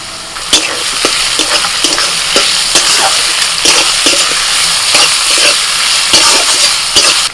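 Chopped capsicum, beans, cabbage and carrot are stir-fried in a hot pan for veg chopper rice. A loud, steady sizzle runs under repeated sharp scrapes and clacks of a spatula at an uneven rhythm. No one speaks.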